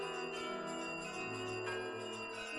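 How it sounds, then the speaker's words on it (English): Merry bells ring out in a staged Christmas Carol audio drama, a busy cluster of bright bell tones and chimes layered over a steady, full backdrop, continuous and moderately loud with no voices. "merry bells."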